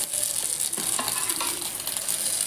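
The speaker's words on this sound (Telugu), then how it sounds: "ఈ బ్రెడ్ ముక్కల్ని ముందుగా మిక్స్ చేసి పెట్టుకున్న ఎగ్లో డిప్ చేసి ఇలా ఫ్రై చేసుకోవాలి." Bread slices dipped in beaten egg frying in oil in a pan, a dense bright sizzle up close, steady with brief surges as the slices settle.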